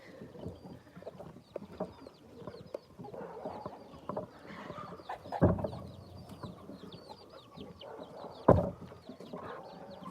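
Homestead chickens cluck and chatter as they are fed pellets in the morning, a busy flock heard close up, with a couple of sharp thumps or knocks cutting through the steady clucking.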